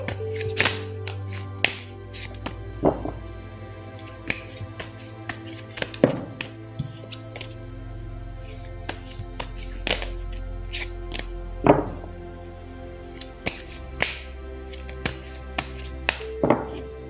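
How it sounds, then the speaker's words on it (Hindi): Tarot cards being shuffled by hand make a string of light, crisp clicks and taps, scattered irregularly over a steady soft musical hum. "पहले ज़रा कार्ड्स को शफल कर लेते हैं।"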